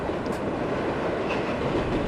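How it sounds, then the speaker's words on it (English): A subway train going by in the game World of Subways 4, a steady close rumble of wheels and carriage noise with a faint clatter, no talk. "feeling of a subway train going by"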